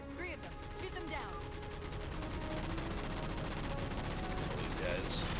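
Rapid gunfire from a Halo 4 firefight, dense and continuous across the whole stretch, with game voices talking over the shooting.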